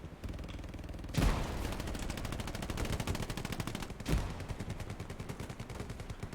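In a competitive 18-versus-18 match of the World War II shooter Hell Let Loose, a gun battle among houses brings rapid automatic fire that rattles on continuously, with two louder, heavier bursts cutting in partway through.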